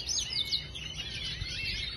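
Pet birds give several quick, high chirps and tweets close by, faint against a low background hum.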